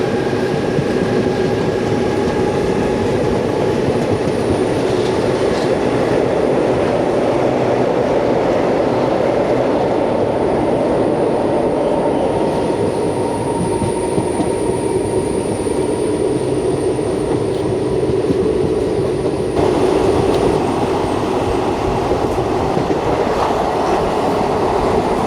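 The 16127 Chennai Egmore–Guruvayur Express runs at speed, heard from inside as a loud, steady rumble of wheels and carriage noise that continues for the whole stretch, with no talk.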